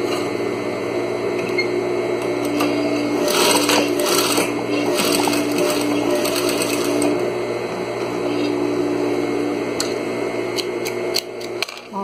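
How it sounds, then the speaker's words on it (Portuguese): Sewing machine stitching a seam on a fabric table runner with ruffles and pleats, a steady close whirring hum with rapid needle clatter, pausing and restarting with faint clicks and handling noise near the end. "Agora eu só vou passar a costura aqui."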